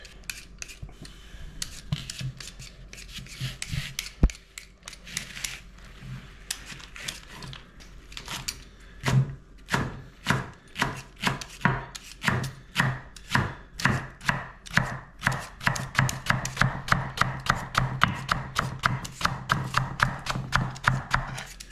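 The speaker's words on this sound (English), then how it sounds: "I'm gonna cut these leeks." A knife chops leeks on a cutting board. After a few scattered cuts, the strikes settle into a fast, steady rhythm of sharp close taps that quickens toward the end.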